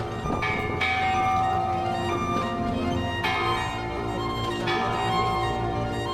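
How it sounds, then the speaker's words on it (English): The Hiroshima Peace Bell is rung by visitors: a deep, sustained bronze toll with rich humming overtones. Fresh strikes come every second or two over the long ringing decay. "Right there is the peace bell. Visitors are invited to ring it as a wish for a more understanding and peaceful world."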